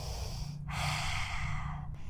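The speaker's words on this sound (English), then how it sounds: "Take a deep breath." One deep breath is drawn, a single soft airy inhale that swells and fades over about a second against a quiet background, during a spooky Halloween yoga session for kids.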